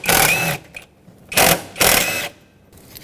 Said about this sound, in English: Use a 10mm socket and remove the two bolts holding this intake piece on.